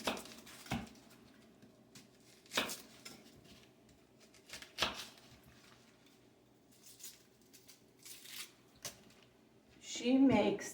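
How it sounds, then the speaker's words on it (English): A knife chops an onion on a cutting board, sparse sharp knocks spaced a second or two apart, under quiet talking. "What we're going to do first is we're going to cut up the onion"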